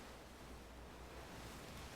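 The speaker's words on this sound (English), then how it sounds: "does the water sound not go away?" A continuous watery ambience from the game Magic: The Gathering Arena rolls on quietly like surf or rushing water, a faint steady wash with no breaks.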